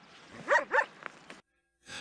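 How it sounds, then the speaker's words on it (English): Local dogs in the mountains of Tusheti, Georgia, bark while following hikers: two loud, close barks, then a few short, fainter yelps, a brief silence, and another bark starting at the end. "the couple is being followed by local dogs. They just keep barking,"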